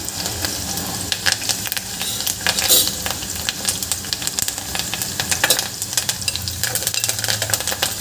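Onion and curry leaves frying in hot oil with mustard seeds and cumin make a loud, continuous sizzle with crackling pops and occasional stirring scrapes throughout.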